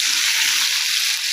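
Onions sauté in a clay pot for chutney, giving a steady, close, bright sizzling hiss without pause and with no voices.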